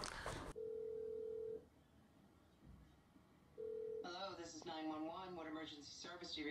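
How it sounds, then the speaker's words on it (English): A phone in GTA 5 calling 911: a steady electronic tone plays twice with a pause between, then a voice speaks over further phone sounds. "you can start by calling the police 911 on your phone"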